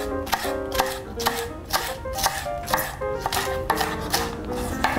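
A sharp knife slices leftover beef thin for bulgogi on a cutting board, a steady run of crisp, close chopping strokes at an even rhythm with no talk.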